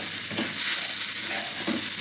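Onion paste sizzles steadily in a hot pan for a coconut prawn curry, a continuous close hiss with a couple of soft stirring scrapes, no talk.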